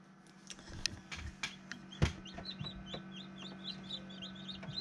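Three baby chicks in a brooder under heat lamps, peeping in rapid high chirps over a steady electrical hum, with a few bumps and knocks nearby.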